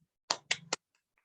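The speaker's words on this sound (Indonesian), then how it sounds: "Tepuk tangan dulu yuk." Three sharp, close hand claps in a quiet classroom, evenly spaced in a quick run, each crisp and brief, followed by near silence.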